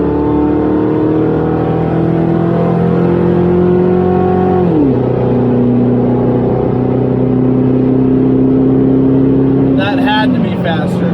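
A car running E85 fuel accelerates hard on an acceleration run, its engine droning loudly and climbing in pitch through the gears with a clear shift midway, recorded close from inside the cabin.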